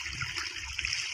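Irrigation water from a pump motor rushes into a wheat field, a continuous splashing, gushing flow heard briefly and at close range.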